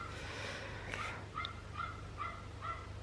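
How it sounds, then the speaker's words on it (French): Dogs bark in the distance from a neighbour's property beyond a garden, several faint, evenly spaced yaps over a low steady background hum. "on entend des chiens"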